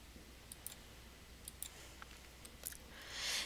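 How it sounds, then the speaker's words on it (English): Plastic buttons on a graphing calculator are pressed one after another while an equation is typed in. The clicks are faint, close and irregular over a quiet hiss, ending with a short rustle, and nobody talks. "on my calculator here, I'm going to go ahead and go to my y equals, and I'm going to type my equation"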